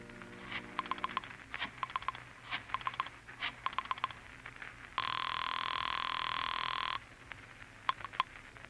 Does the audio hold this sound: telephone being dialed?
yes